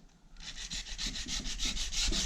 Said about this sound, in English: if you don't have one of these sanders and you're just using ordinary sanding paper, some 80 grit sandpaper, try the same technique